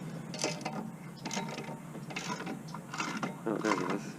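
A wrench ratchets wheel spacer bolts tight on a VW MK4 in a garage. It gives bursts of quiet, rapid mechanical clicking in an uneven rhythm, with no talking.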